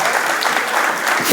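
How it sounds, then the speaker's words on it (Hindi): Audience applause at a Hindi poetry gathering held with the Star Cycle Traders Association, a steady dense clapping wash lasting the whole short moment without a break. "एक बार तालियां बजा दीजिए सब"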